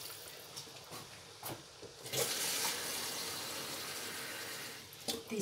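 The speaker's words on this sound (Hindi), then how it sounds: "चलिए इसमें शामिल करेंगे पानी।" Water poured from a glass into a pot of rice for vegetable pulao, a soft splashing pour starting midway and running steadily, faint and close, with brief quiet speech before it.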